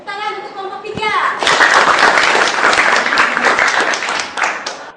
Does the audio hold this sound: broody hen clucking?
no